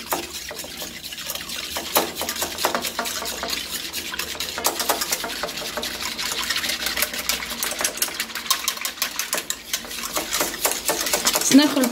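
A utensil stirs cake batter with cream around a bowl in quick repetitive strokes, a soft clattering rhythm close by with faint background noise.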